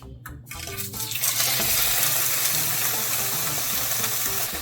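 Ham steak dropped into a little hot oil in a pan, breaking into a loud, steady broadband sizzle that swells after a second or so and holds evenly, with a few clinks at the start.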